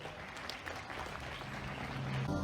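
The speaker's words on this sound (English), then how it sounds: "Can we have a round of applause," Applause at a secondary school investiture ceremony at DPS Monarch International School, a steady wash of clapping from the audience that holds evenly and swells slightly toward the end.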